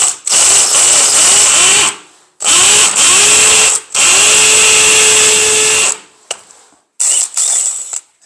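A power drill bores a hole through a 600 mm porcelain tile, running loud and close in long whining bursts with short pauses between them, then a few brief final runs.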